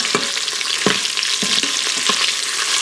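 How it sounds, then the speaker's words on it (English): Metal utensil scraping against a metal Instant Pot insert while chicken browns, with several sharp scrapes at irregular intervals over a steady close sizzle of frying. "Metal on metal."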